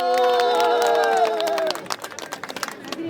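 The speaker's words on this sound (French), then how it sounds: "S'il te plaît, applaudissez très fort pour eux." A crowd claps and cheers loudly, a held shout ringing over dense applause that then thins into scattered, uneven claps.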